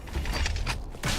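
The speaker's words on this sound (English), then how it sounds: "Reloading." Weapon reload in Valorant, a quick run of mechanical clicks and creaks from a magazine and slide, close and fairly quiet, lasting about a second.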